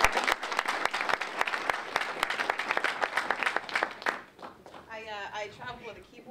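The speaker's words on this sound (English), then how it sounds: "Give her a round of applause." Applause from a crowd, dense clapping for about four seconds that cuts off, then a voice starts speaking.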